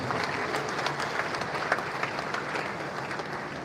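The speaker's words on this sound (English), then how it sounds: "He deserves another round of applause." An audience claps steadily at a school speech and prize giving day ceremony, a dense, even patter of applause from many hands at moderate distance, continuing without talk.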